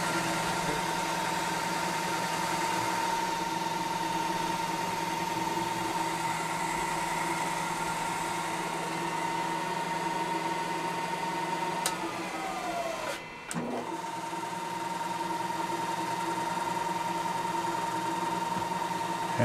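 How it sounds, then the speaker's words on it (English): A mill power-taps blind holes for a rod bender project, giving a steady mechanical hum and whine that runs throughout. Near the end comes a brief sweeping pitch change and a short drop, then the hum continues. Close, with no talk. "So tapping blind holes, power tapping blind holes is risky."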